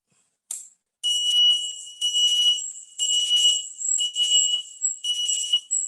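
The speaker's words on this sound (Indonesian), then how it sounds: "buzzer alarm akan berbunyi" IoT home security buzzer alarm sounding: a shrill, high electronic tone that starts with a short chirp and then beeps in long, loud bursts with brief gaps, close by and with no voices.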